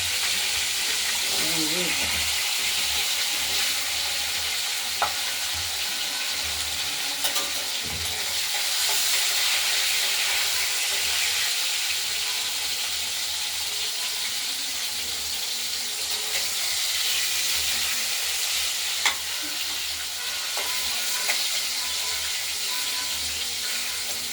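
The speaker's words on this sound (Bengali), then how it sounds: "এই কেটে রাখা আলুগুলোকে আমরা ভেজে নেব ফোড়নের সঙ্গে।" Cut potatoes fry with tempering spices in a pan, a continuous hissing sizzle held for a long stretch with occasional faint stirring clicks and a watery, tap-like wash in the background.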